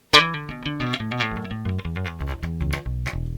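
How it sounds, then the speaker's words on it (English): An electric bass, a '73 Precision Bass on its P pickup alone with tone fully up, plays a quick run of plucked notes, round and punchy, close and clear. "So here's just the P pickup by itself."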